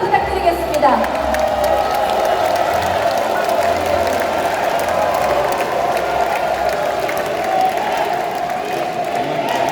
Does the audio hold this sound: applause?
yes